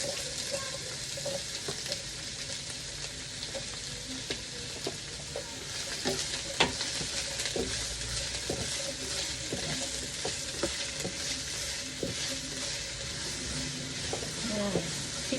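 White onion sautéing in a pan after garlic, a dense steady sizzle with frequent spatula scrapes and clicks running throughout, with faint voice underneath at times.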